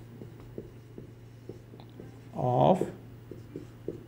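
A pen writing on paper, soft rhythmic scratching strokes close up, with a brief spoken word in the middle.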